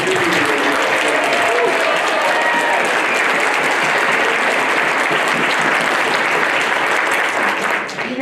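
Loud, continuous audience applause for Mrs. Cordova at a community awards program in Taos, dense clapping holding at an even level with faint voices mixed underneath.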